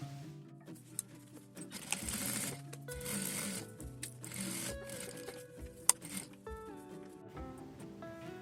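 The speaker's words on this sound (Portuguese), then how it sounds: "E agora é só passar uma costura em toda a volta, uma costura com pé de máquina" A sewing machine runs steadily, stitching all the way around a plastic and zipper cutlery pouch with a zipper foot, with short bursts and pauses over a soft musical background.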